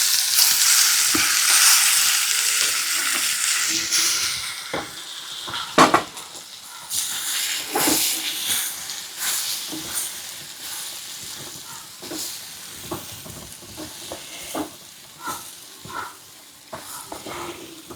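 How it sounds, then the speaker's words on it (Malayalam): Pieces of taro (chembu) sizzle steadily in hot oil for Thrissur-style upperi. A utensil stirs and scrapes the pan with intermittent clinks and taps, and the frying stays close and continuous throughout. "അപ്പോൾ നമ്മുടെ ചേമ്പിനെ അങ്ങോട്ട് ഇട്ട് കൊടുക്കാം നമുക്ക്."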